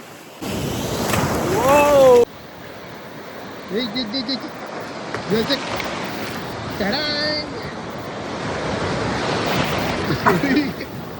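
Sea waves washing onto a beach, a steady broadband surf roar with wind buffeting the microphone, while several people talk and call out over it.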